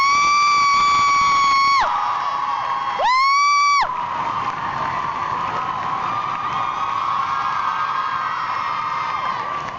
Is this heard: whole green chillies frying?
no